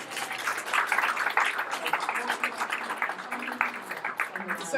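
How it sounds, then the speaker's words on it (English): An indoor training-session audience gives a round of applause, a dense spread of claps under some chatter and voices, moderately loud and steady for several seconds. "give yourselves a round of applause"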